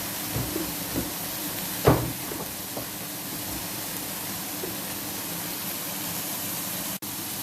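Spare ribs fry in a pan with a steady, broad sizzling hiss, close and fairly loud, with a few small pops and taps early on and no talking.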